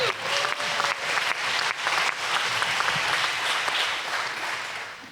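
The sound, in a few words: applause from the town hall audience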